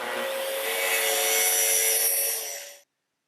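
A saw rips along a board to cut 1.5 inches off its factory edge in a home workshop. The cut is a steady, loud, continuous rasp with a whining tone that runs for almost three seconds and then stops abruptly.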